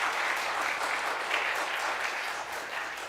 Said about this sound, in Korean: 박수로 환영하면 좋겠습니다.